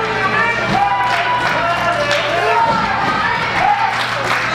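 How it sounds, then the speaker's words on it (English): An LCW wrestling crowd chants "Sudden Impact" in a steady rhythm during a match. The chant is loud and fills the venue, and a commentator talks over it. "the sudden impact chant started again as the LCW crowd trying to get Green the energy that he needs"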